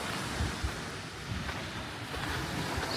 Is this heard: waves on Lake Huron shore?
yes